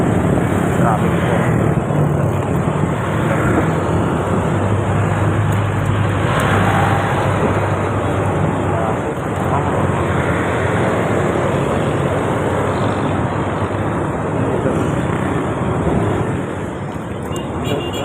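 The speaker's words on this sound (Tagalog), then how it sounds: "Traffic po." Dense road traffic on a congested city street in the Philippines, a loud continuous wash of car, bus and motorcycle engines close by for the whole stretch.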